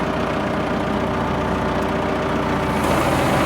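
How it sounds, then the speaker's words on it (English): Tractor engine running steadily at close range as the power take-off engages on a hay-cutting rig, a continuous heavy drone that thickens slightly near the end. "Ready to engage the PTO."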